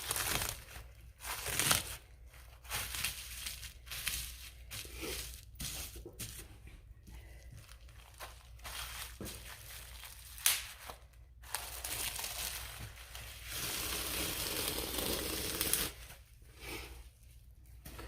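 Plastic liner being peeled away from a freshly set oatmeal, milk and honey soap loaf, giving a stretch of crinkling, crackling and tearing noises with brief pauses and a longer continuous pull near the end.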